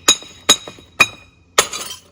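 Glass is smashed against stone outdoors to make faux sea glass: four sharp, loud clinking impacts at roughly even intervals, the last followed by a brief scatter of shards.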